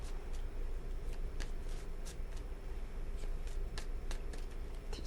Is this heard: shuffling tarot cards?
yes